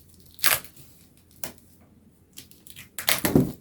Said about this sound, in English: Let me tear it open here.